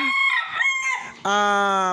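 Gamefarm rooster kept in a brooder or battery cage crowing loudly and close, a broken opening call followed by a sustained strong crow.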